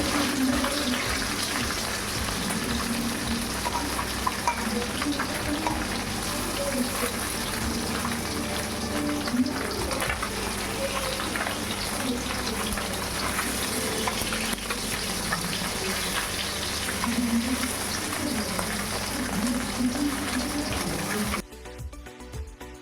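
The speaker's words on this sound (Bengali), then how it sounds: "বাকি যে মাছগুলো ছিল একইভাবে ভেজে নেবো লাল লাল করে" Mourala fish frying in hot oil, a steady dense sizzle and crackle that goes on unbroken and fairly loud for the whole stretch, cutting off abruptly near the end.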